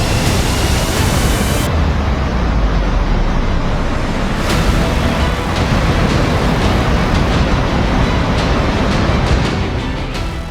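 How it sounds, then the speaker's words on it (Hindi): A torrent of water crashes down a mountainside in Chamba, Himachal, during a cloudburst flood: a loud, dense, unbroken roar of rushing water that fills the whole clip with steady force. "पहाड़ से तूफानी रफ्तार में गिरता पानी नीचे तबाही की शक्ल में बह रहा है।"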